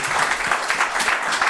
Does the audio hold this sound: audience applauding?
yes